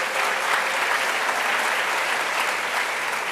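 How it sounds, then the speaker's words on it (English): A large audience applauds steadily, a dense wash of clapping that holds at an even level throughout. "Can we clap for Professor Noble?"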